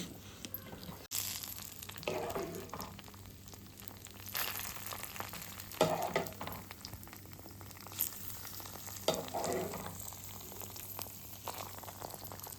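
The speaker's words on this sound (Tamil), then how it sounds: "இப்போ நம்ம இது கூட முந்திரி திராட்சை வறுத்து சேர்த்துப்போம்." Cashews and raisins fry in a pan with a steady, close sizzle, broken by occasional louder crackles and stirring scrapes every few seconds.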